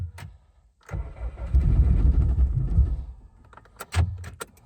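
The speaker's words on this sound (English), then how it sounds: "she doesn't want to start, so I won't end the video with a super cold start" A Subaru Impreza under rebuild cranks over for a couple of seconds with a dense, churning starter-motor rumble but fails to catch, followed by a few clicks and clunks.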